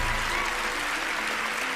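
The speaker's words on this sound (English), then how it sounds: "Please give a big round of applause for Bill." Broad, steady applause from a studio audience on a magic competition show, welcoming a volunteer named Bill to the stage; the dense clapping fills the whole moment without letting up.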